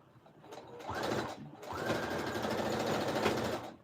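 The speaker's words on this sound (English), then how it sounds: "I'm gonna go sew" Sewing machine stitching through quilt fabric, a steady continuous motor whir in two bursts, the second long and sustained, close and fairly loud with no talk over it.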